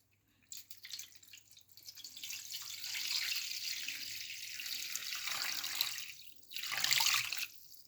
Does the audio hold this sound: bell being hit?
no